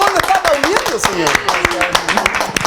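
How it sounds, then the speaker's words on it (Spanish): A studio audience claps in a rapid, uneven patter of sharp hand claps, close and fairly loud, with voices carrying over the applause throughout. "El público, ¿dónde está aplaudiendo, señor?"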